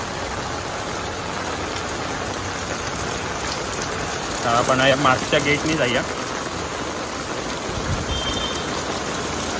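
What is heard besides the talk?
heavy rain in Mumbai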